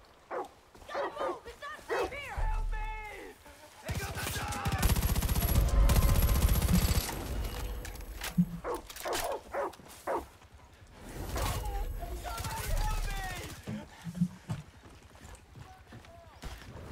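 Dog barking amid gunfire in the video game Far Cry 5, with repeated sharp bursts and a sustained loud stretch of shooting over a few seconds, mixed with scattered game effects.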